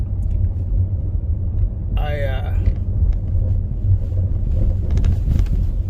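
Car rolling over a rough, bumpy road, a steady low rumble of tyres and cabin noise running throughout with a brief voice rising over it.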